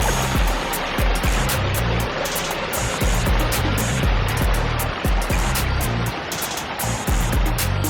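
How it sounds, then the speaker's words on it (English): Water pours from a backyard koi pond waterfall into a stream of about 35 feet, a loud, steady splashing rush with broadband wash, heard close and continuous. "we've got the waterfall, about 35 feet of stream, and approximately about 8 feet of elevation change"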